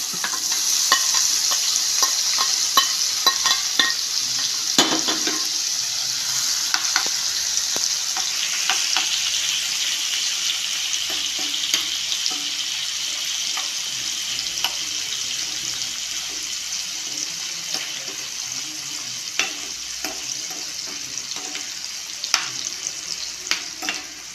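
Paneer coated in masala sizzles steadily in a pan over a Kerala-style stove, a bright continuous frying hiss with scattered clicks of stirring and a faint trickle of water in the background, no voices.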